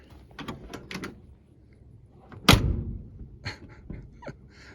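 A door on a 1964 Ford F-350 truck shuts with a single loud, close metallic slam, followed by a brief rattle, with a few softer clunks and handling noises before and after.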